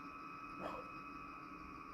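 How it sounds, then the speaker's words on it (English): A single muffled dog bark sounds from a distance, from a dog in a backyard, over a steady electrical hum. "my dog is in the backyard barking"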